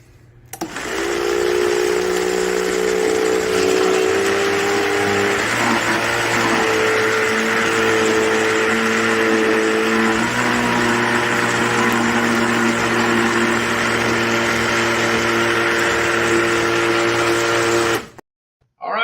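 A powerful Vitamix blender making ice cream with almonds runs continuously for about seventeen seconds, a loud steady roar with a droning motor hum that shifts pitch slightly as it churns, then cuts off.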